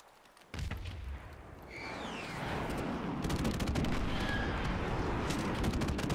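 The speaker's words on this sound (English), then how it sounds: "Friendly airstrike on the way." Airstrike in a first-person shooter game: a sudden heavy blast followed by continuous booming explosions and rattling gunfire that build into a dense, loud barrage, with whistling streaks overhead.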